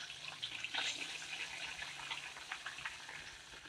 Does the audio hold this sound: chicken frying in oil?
yes